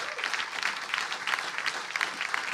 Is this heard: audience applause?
yes